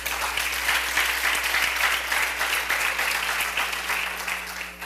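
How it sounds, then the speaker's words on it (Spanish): A church congregation claps together in steady, dense applause that fills the room and holds loud throughout, with a faint voice barely under it. "Denle un buen aplauso al Señor"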